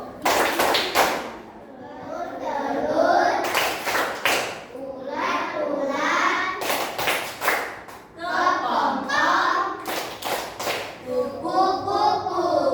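Rhythmic bursts of hand clapping from a group of children, alternating with lively children's and adult voices chanting and talking in Indonesian.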